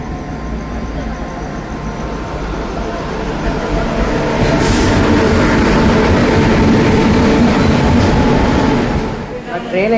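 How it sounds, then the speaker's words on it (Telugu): A passenger train pulling into a station, a loud close rumble that swells and holds as the carriages roll past with rattling and clattering, a voice briefly heard over the noise. "నా ట్రైన్ అయితే వచ్చేసింది"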